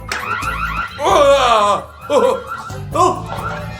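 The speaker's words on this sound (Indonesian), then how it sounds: "Ini apa yang terjadi? alarm." An alarm goes off inside a toy store, a loud warbling siren that rises and falls in repeated sweeps, mixed with nearby voices and laughter.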